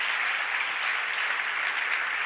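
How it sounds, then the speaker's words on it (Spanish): Audience applause fills a church during a Christian worship service, a steady wash of many hands clapping at an even level throughout, with no talk over it. "¿Puedo dar un aplauso fuerte a Jesucristo?"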